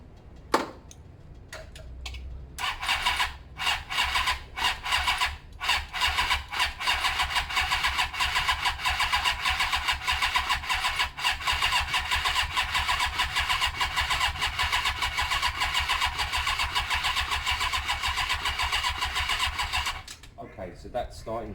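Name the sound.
Suzuki GS500 motorcycle engine cranking and starting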